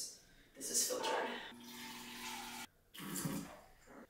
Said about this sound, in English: I'm gonna fill it up for my fridge because this is filtered.